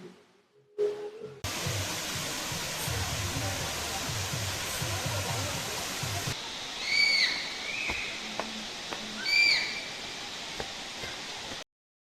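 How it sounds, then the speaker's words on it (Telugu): Thalakona waterfall near Tirupati roars as a dense, continuous rush of broadband noise. It swells briefly twice and cuts off abruptly at the end. "వాటర్ ఫాల్ సీన్స్ కానీ వాటర్ ఫాల్ సౌండింగ్స్ కానీ ఎలా ఉందా."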